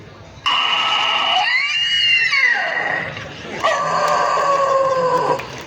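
A voice imitates a rusty door creaking open after twenty years, with drawn-out squeaking, whining tones that bend and slide, loud and close, in two long stretches.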